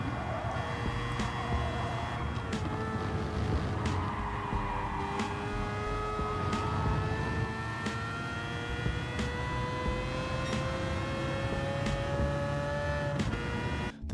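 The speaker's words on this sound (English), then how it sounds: "You gotta love that 787B sound though." Mazda 787B race car in Gran Turismo 7, its rotary engine wailing loudly and continuously through rising and falling gear changes, with sharp shift breaks spaced along the run.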